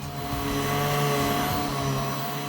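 A Maytag vacuum cleaner runs steadily on carpet or bare floor, its motor producing a loud, continuous droning hum with a constant tonal whine and no pauses.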